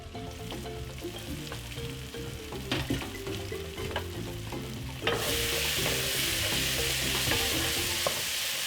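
A whole Kenyan stewing hen being stirred in a pot: a spoon scrapes and knocks against the pot under a steady sizzle, and the frying swells louder partway through.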